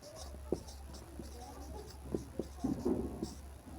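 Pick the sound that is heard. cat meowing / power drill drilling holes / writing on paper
writing on paper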